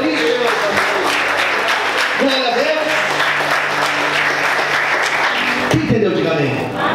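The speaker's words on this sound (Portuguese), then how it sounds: "Você pode aplaudir bem forte a Ele por isso." Loud, sustained applause from a church congregation fills the space, with voices and cheers mixed throughout and a brief swell near the end.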